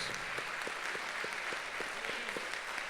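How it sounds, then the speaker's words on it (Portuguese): A church congregation claps during a family service, soft and distant with a fairly steady rhythm of distinct claps under a diffuse background wash. "Os irmãos podem aplaudir a Deus pelos aniversariantes, irmãos?"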